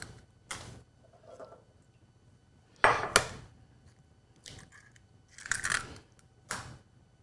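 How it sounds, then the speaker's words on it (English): Eggs cracked one at a time into a bowl for a cheese soufflé, giving several sharp, separate taps and cracks with quiet pauses and faint shell and bowl clinks between them. "make sure that you crack them one at a time into a separate bowl"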